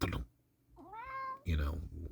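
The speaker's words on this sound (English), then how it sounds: "Oh, you're wet, even out in the rain. You are the weirdest cat." A wet cat meows once out in the rain, a clear rising-then-falling call near the mic, with someone talking just before and after.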